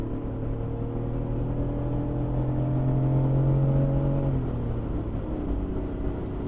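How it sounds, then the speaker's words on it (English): BMW car driving on a highway with an automatic transmission that shifts clunkily, a steady engine drone with rising tonal whine that drops as the gear changes partway through, heard from inside the car. "transmission shifting better already"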